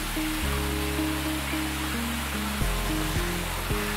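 Garden waterfalls spilling into ponds beside the mini golf course at Cherry Hill Park campground give a steady, even rush of falling water, with a sustained tonal drone layered over it.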